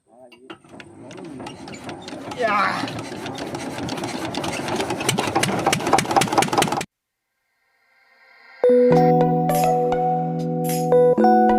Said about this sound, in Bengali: আমাদের ইঞ্জিন স্টার্ট করবো।